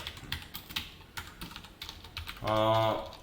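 Code is being typed on a computer keyboard during a JavaScript lesson, heard as a quick, irregular run of close, light key clicks, followed by a brief burst of sound at the end.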